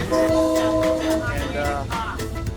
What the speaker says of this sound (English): this is a local bus. They just keep on honking like every 2 seconds